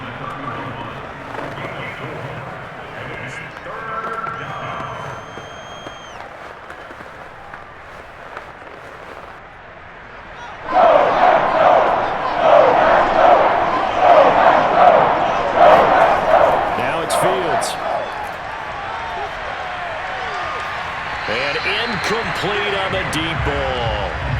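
Stadium crowd noise rises in a Madden 22 football simulation between the Chicago Bears and Green Bay Packers, swelling to a loud, sustained roar of cheering and applause midway, with a commentator talking over it.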